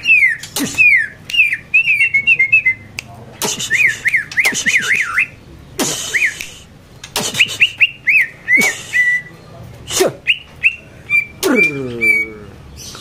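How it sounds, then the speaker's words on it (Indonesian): Green leafbird calling loudly and repeatedly, a string of bright whistled phrases, chirps and warbles close up, with a few louder squawks and no talk over it; recorded among caged songbirds at a bird dealer's. "Cucak Ijo-nya juga tuh berisik banget ya."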